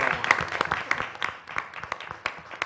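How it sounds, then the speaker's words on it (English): Faint, scattered hand claps from a small audience at a board meeting, sparse and uneven, quiet in the room. "So worthy of recognition and worthy of applause"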